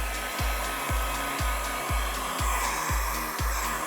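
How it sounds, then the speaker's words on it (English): A heat gun blows continuously while shrinking rear window tint on a Kia Optima, a loud steady hiss and whine broken by regular low thumps about twice a second, with no talking. "Grab your heat gun."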